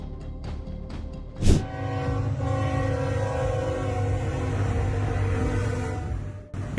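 A freight train collides with a truck at a railway crossing after the truck runs a red signal: a sharp loud impact burst, then sustained heavy rumbling and grinding rail noise, close and continuous, with no talk.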